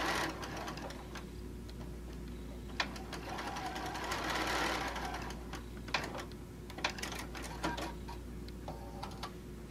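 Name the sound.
sewing machine sewing quilt fabric pieces together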